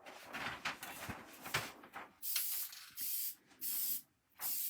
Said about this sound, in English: So you can see it's just a really light mist.